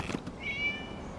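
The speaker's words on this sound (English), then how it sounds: "It was just a cat." Cat meowing in the video game Genshin Impact, a single short, thin, high meow heard close over a soft ambient background.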